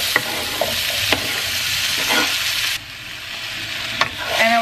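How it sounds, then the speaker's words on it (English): Seasoned potatoes fry in oil with a steady, close sizzle for papas con chorizo, seasoned with garlic salt and black pepper, broken by a few sharp scrapes and knocks of a utensil stirring the pan. "Now we're going to put these to fry with a little bit of oil."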